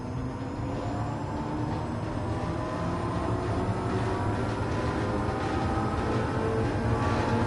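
A car in the racing video game GT Sport with a jet-engine-like sound, a continuous droning whine with layered rising and falling tones, steady and fairly loud throughout, no talk.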